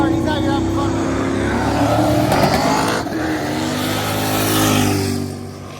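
A Camaro making a drag racing pass, a loud continuous engine roar that climbs and holds steady for several seconds, with a commentator talking over it.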